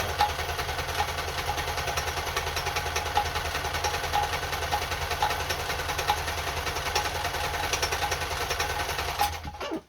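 A Kenmore 10 Stitch sewing machine runs steadily through a long satin stitch, its rapid needle chatter and motor hum holding an even, close, continuous rhythm before stopping abruptly at the end.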